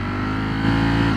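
A motorbike engine revving with the throttle held open, a steady loud drone with strong harmonic bands that rises slightly in pitch and level partway through, close and continuous with no talk over it.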